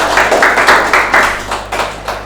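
Audience clapping at an Indonesian podcast session, a series of broad rhythmic hand-clap bursts close together over a low steady hum, with no voices over it.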